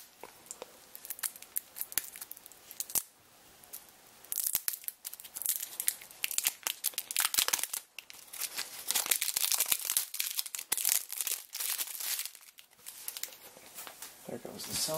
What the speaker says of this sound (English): There goes the cellophane.